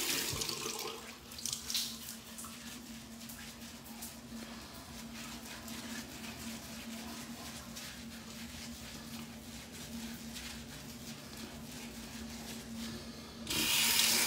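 A tap runs steadily into a sink while someone washes their face, a continuous close splashing stream for most of the clip, with a brief louder rush of water near the end.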